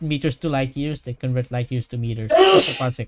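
A single sharp sneeze bursts out late, loud and close, over and just after a person's ongoing speech.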